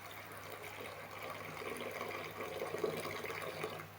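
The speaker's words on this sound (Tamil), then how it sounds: "இப்போ தண்ணி ஊற்றிக்கலாம்." Water being poured into a pot of sambar, a soft, low splashing trickle that swells slightly toward the end, faint and close by.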